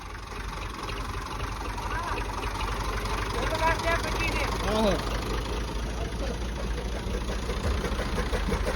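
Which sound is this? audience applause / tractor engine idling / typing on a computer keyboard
tractor engine idling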